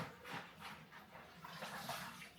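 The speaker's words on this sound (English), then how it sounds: "So you just shake it off in the salt water." Callaloo leaves dipped and shaken in a bowl of salt water, a soft close sloshing and splashing in quick repeated bursts, fairly quiet and with no talk over it.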